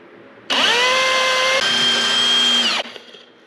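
A power drill with a quarter-inch bit runs at a steady high whine for about two seconds and shifts pitch partway through. It is close and loud, then stops abruptly, and no one speaks.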